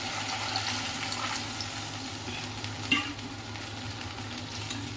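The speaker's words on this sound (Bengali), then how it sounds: "এবার পরিমাণ মতন উষ্ণ জল দিয়ে" Warm water poured into a pan of fried fish and cooked-down masala, giving a steady broadband sizzle and bubbling with a small clatter near the three-second mark, close and fairly loud, with no talking.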